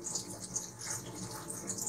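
Tap water runs steadily into a sink while money plant leaves are rinsed under it, a soft close hiss with faint splashing and no talk.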